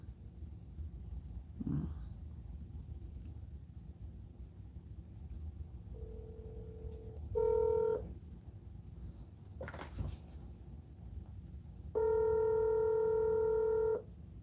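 A telephone rings during a live call, with long tonal rings at intervals, separated by faint room noise and a few brief knocks.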